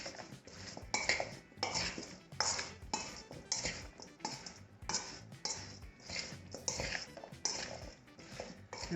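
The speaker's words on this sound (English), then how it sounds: "Give it a nice stir" Potato wedges seasoned with garlic salt, black pepper and spices are stirred in a bowl, giving a steady run of rhythmic scraping and clinking strokes, close and moderately loud.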